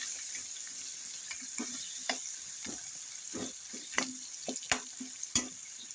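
Raw mango pickle stirred in a pan over low gas, soft sizzling with a series of scraping spoon strokes at an irregular pace, close and quiet.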